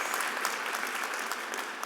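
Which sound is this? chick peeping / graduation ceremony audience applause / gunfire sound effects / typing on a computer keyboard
graduation ceremony audience applause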